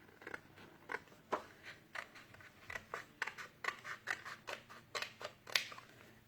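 Scissors snip through paper along a fold line while a gourmet bell-opening box is being made, a quiet series of crisp, separate cuts at an irregular rhythm, close by and with no talking.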